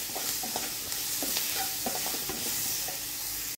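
Garlic and green chilli paste stirred in a hot pan, a dense close sizzle with quick, repeated spatula scrapes and taps throughout, ending abruptly.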